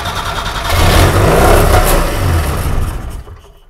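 An old motor engine that sat unused for years runs and revs, its loud, steady mechanical roar rising and holding for a few seconds before starting to fade toward the end.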